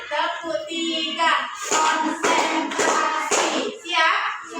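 Schoolchildren in a classroom clapping in short bursts for a counted clapping routine, with a voice calling between the bursts. The clapping arrives in a few distinct clusters, fairly close.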